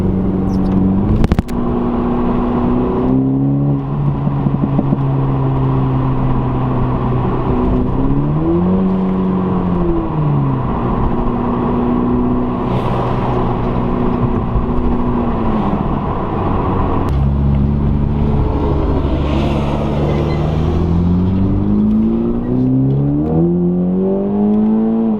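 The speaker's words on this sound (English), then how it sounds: "Let's roll down the window and we can hear some of that lovely 4-cylinder turbo music." A 2021 Toyota GR Supra with the 2.0-litre four-cylinder turbo engine revs steadily from inside the cabin while driving, its loud drone rising and falling through gear changes, with road and wind noise throughout.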